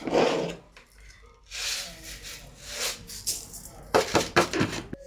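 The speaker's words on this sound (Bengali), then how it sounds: "এবার চিনি দিয়ে দিচ্ছি নাড়ু করার জন্য, আর তার সাথে দিয়ে দেবো আমাদের কয়েকটা এলাচ" Sugar and cardamom go into a pan on a gas stove, making scraping, rattling and light tapping sounds near and moderately loud, with a few sharp clinks toward the end.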